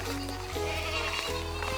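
A goat at an eco-settlement in Zakarpattia, Ukraine, bleats in a long, wavering cry that carries through most of the short clip, close and fairly loud.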